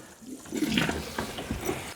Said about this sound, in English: I can continue siphoning water.